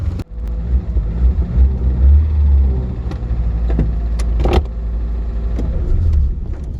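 A 1987 Chevy Chevette with a manual transmission idles roughly while warming up, a loud close low engine rumble that swells and sags unevenly, broken by a few sharp knocks and clicks.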